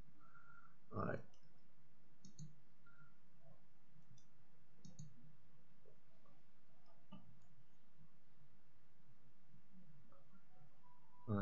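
Faint computer mouse clicks are scattered sparsely across a quiet room-tone background during building work in a 3D editor, with a few soft isolated ticks.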